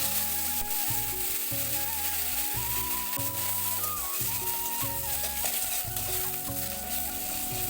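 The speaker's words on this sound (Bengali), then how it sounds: "তেলের উপরে এই নিম পাতাগুলো কিন্তু একটু ভেজে নেব।" Neem leaves fry in hot oil in a wok with an even, steady sizzle that runs beneath tuneful background music for the whole stretch.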